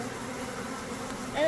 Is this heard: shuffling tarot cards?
no